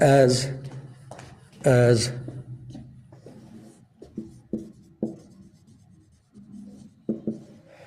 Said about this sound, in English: So let's write one more point there